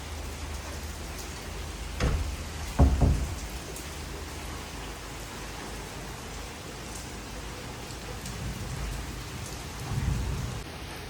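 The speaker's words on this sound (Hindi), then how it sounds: "ज़बरदस्त बारिश हो रही है।" Steady heavy rain pours down continuously in Lahore, with a few louder thumps and gusts rising briefly above the constant wash of falling water.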